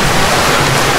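Steady, dense rush of water falling at Dampalit Falls filling the whole short clip, loud and close with no voices.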